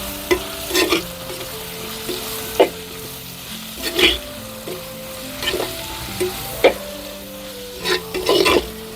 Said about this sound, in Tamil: இந்த மாதிரி பதத்தில் வந்த உடனே நம்ம வெட்டி வச்சுருக்க இந்த 4 தக்காளியையும் அப்படியே நம்ம போட்டுடணும். அதையும் கொஞ்சம் வதக்கணும்.